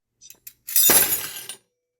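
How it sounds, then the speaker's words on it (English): Silverware dropped onto a metal cookie sheet: two light taps, then a loud, crashing metallic clatter that rings briefly and stops abruptly. "Drop the silverware onto the cookie sheet, but warning, it could get pretty loud."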